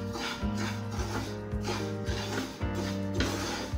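Semolina being stirred and roasted in a pan while making sooji mava barfi, close scraping and rubbing strokes in a quick repeated rhythm, alone with no talk.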